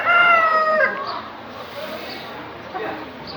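Chickens at a 4H fair weigh-in cluck and call, with one bright drawn-out call at the start and softer scattered clucks following amid crowd murmur.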